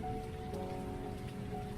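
Heavy rain falling in the video game WILL: A Wonderful World, a steady dense wash of drops heard close and continuous, with soft tonal game music humming underneath.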